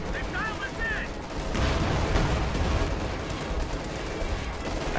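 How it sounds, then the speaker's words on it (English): Artillery and gunfire in a World War II strategy video game as shells land on a US base, a dense roll of booming blasts and crackling shots that swells midway, with faint synthetic chirps early on. "artillery is being dropped on the US base again"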